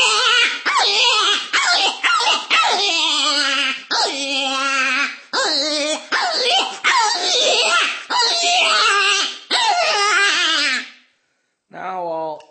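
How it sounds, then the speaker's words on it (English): Buck Gardner raspy rabbit predator call blown with the reed closed gives a run of loud, close, wavering distress squeals in short bursts, stopping briefly near the end before another cry. "I'll just let you hear it with the closed reed first."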